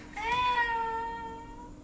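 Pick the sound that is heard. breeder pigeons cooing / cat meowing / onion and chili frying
cat meowing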